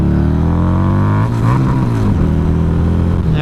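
A Harley-Davidson motorcycle engine drones loud and close, its harmonic pitch wavering and dipping through a rough misshift midway before settling back into a steady rumble.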